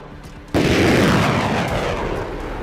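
An M270 multiple launch rocket system fires with a sudden loud blast and a roaring rush that sustains and slowly fades over a few seconds.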